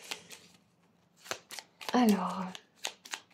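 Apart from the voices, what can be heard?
shuffling and drawing tarot cards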